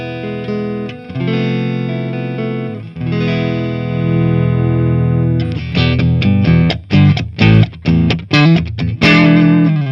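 A Fender Stratocaster electric guitar with single-coil pickups, played straight into a Marshall amp with effects bypassed, rings out sustained chords with a lightly crunchy tone, then switches to choppy, rhythmic strummed chords with short stops.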